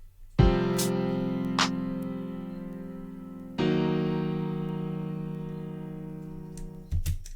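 Chord progression for a hip-hop/R&B beat plays back from FL Studio: two long sustained synth chords, each starting with a bright attack and slowly fading, with a few faint clicks, quiet and without voices.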